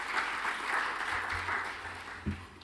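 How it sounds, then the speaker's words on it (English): Steady applause from a forum audience at an African financial markets and economic outlook event, a dense even wash of clapping heard from a moderate distance with no talking. "This is a remarkable achievement and certainly worthy of applause."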